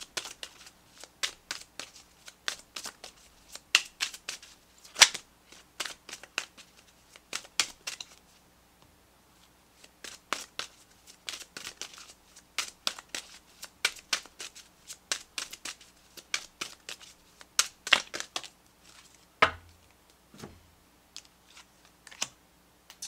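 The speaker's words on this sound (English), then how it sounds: "Let's pull you some additional guidance cards." Tarot guidance cards being shuffled by hand in repeated crisp riffling bursts with short pauses between them, close and fairly quiet, no talking.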